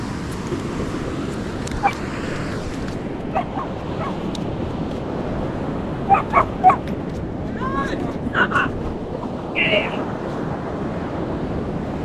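A dog on a beach yips, barks and whimpers in short bursts over steady surf and wind noise, with a few louder yelps near the middle and a person talking now and then.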